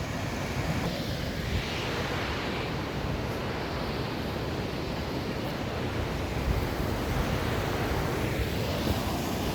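A waterfall beside a Shiva statue at a temple: a steady, dense rush of falling water fills the whole stretch without pause, loud and close, with no voices.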